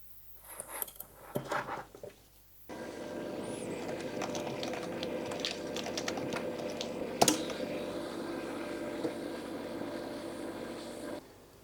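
Close typing on a keyboard connected through a USB-to-PS2 adapter to a DEC Rainbow 100A computer, rapid, uneven keystrokes over a steady background whir, after a few seconds of scattered clicks and handling.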